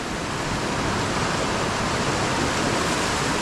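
Floodwater rushing after a sudden heavy downpour in the Konkan region, a loud, steady roar of churning water that fills the whole clip with no voices.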